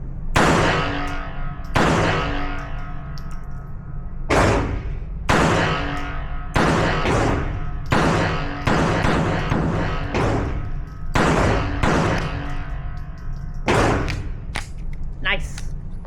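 Ruger Mark IV pistol fired outdoors in a string of about a dozen sharp, loud shots with irregular spacing, each followed by a brief echo and clink.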